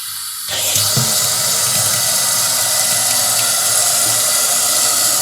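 A newly installed kitchen faucet is turned on after the main water supply is opened, bursting into a loud, steady hiss of running water that continues unbroken and close by.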